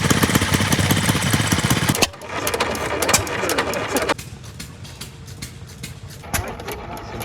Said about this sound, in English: Some hit and miss engines running.